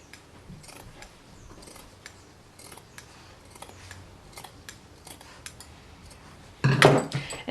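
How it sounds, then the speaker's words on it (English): Scissors snip through fabric in short, quiet cuts close to a stitch line on homemade baby burp cloths, ending in a louder, sharper snip. "See how close I am cutting?"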